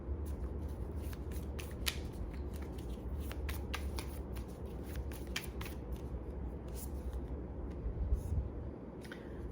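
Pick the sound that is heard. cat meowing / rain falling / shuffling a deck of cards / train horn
shuffling a deck of cards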